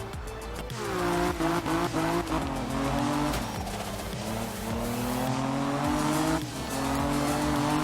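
Cars race and weave through traffic in a driving video game, engines holding a steady high drone with squealing tires and shifting pitch, loud and continuous with no talking.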